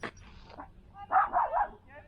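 A dog in a dry, barren outback setting gives a few quick yips and barks, fairly faint and distant, with a brief voice at the start.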